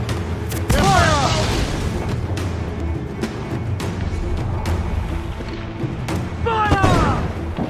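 Ship cannons firing during a naval battle in the video game Assassin's Creed IV Black Flag: deep booming blasts, a heavy one near the start and another near the end, over a steady rumbling battle din with shouted voices.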